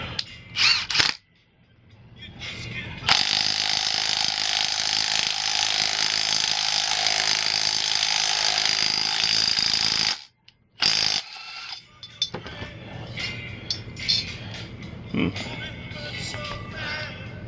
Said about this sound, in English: You guys are going to be tripped out by the stud installer.